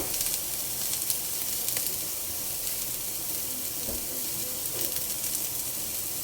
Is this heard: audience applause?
no